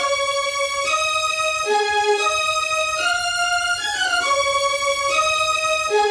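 A Fairlight sampler plays sampled orchestral strings in two octaves together, carrying a clean, sustained melodic riff that moves in stepwise held notes at a steady, loud level with no voices.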